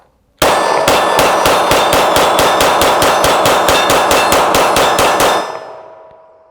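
Rapid string of gunshots from a PSA Sabre Dagger pistol firing Blazer Brass 115 grain rounds, each shot ringing off a steel target in a fast, even cadence for about five seconds before fading out.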